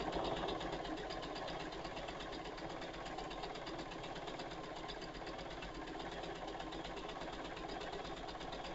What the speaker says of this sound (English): then when you do that, then you can start sewing